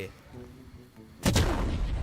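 A skull-shaped firecracker goes off with one loud, close blast partway through, after a quieter lead-in, then a heavy rumbling tail lingers to the end.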